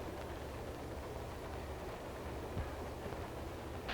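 Steady low rumble of a moving passenger train in a 1933 setting, continuous and even throughout with no talk over it.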